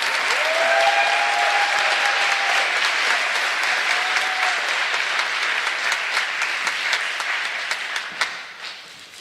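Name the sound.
applause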